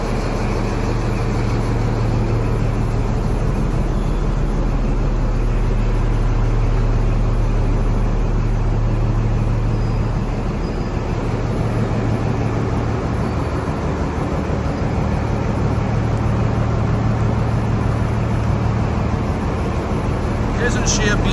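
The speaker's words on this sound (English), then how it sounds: "We will once again enjoy the sound of the VP 185." Class 43 locomotive 43047 with a VP185 diesel engine idles in Edinburgh, a steady, loud low throb with a constant hum that holds unchanged throughout.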